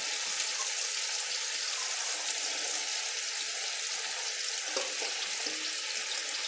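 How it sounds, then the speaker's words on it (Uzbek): Bell peppers and onions frying in hot oil in a home kitchen while chicken is being cooked, a continuous bright sizzle with occasional stirring clatter, close and steady with no speech. "Birinchi ochib bolgarskiy piyozlarni solamiz"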